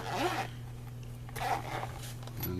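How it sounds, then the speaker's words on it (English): A zipper on a Walmart portable mountain bike tool kit is drawn open in a few quick, close pulls, then a faint rustle of handling at the end. "unzip it here"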